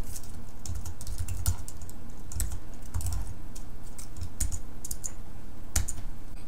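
Close, steady typing on a computer keyboard, entering a WordPress shortcode, with irregular clusters of key clicks and occasional heavier strokes, continuous throughout with no talking.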